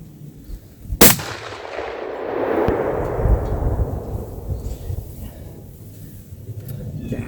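A single sharp gunshot from a cheap gun-show pistol during outdoor target practice near a log cabin, followed by a long rolling echo that fades slowly across the surroundings.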